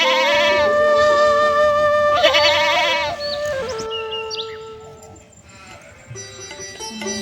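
A goat bought at a market bleats repeatedly in loud, drawn-out, wavering calls that carry over a busy background, the cries growing sparser and quieter toward the end.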